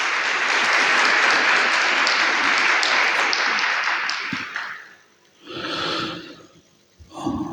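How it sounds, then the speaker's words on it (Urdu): Congregation applauding during an Epiphany Mass at St. Joseph's Parish, Gujranwala: loud, dense clapping for about five seconds that fades out, followed by a couple of short bursts of breath-like noise. "بھرپور تالیوں کے ساتھ۔"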